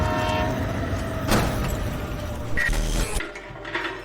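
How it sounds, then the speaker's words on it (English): A train draws near with a steady rumble of rolling wagons, a brief horn-like tone partway through, and a sudden drop in noise near the end, with no voices. "she can see the train coming."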